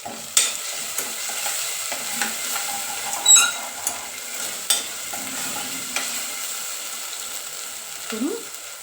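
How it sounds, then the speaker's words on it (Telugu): Ginger garlic paste frying in a pan while a spoon stirs it, giving a soft steady sizzle broken by repeated scraping and clinking knocks of the utensil against the pan, close and fairly loud, with no talk. "ఒక 1 మినిట్ ఇట్లా వేయించుకోవాలి. అల్లం వెల్లుల్లి పేస్ట్ పచ్చివాసన పోయేంత వరకు."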